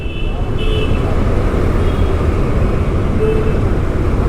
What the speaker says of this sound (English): Okay, the vehicles have started to move somewhat.